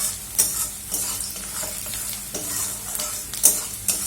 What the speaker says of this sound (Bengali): এটাকে আমি হালকা করে ভেজে নেব।